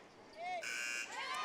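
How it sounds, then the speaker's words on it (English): A basketball shot clock buzzer blares through a gym during a women's playoff championship game, a harsh, sustained electronic tone rising over crowd noise and commentary. "as Kira Duffy beats the shot clock with a buzzer beater"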